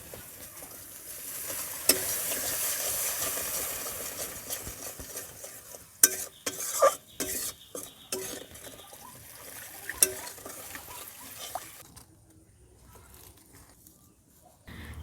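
Fish curry spice paste with salt and turmeric being stirred in a pan in a village kitchen, with a steady sizzle and scraping of a spoon against the pot, then intermittent clinks and scrapes fading toward quiet.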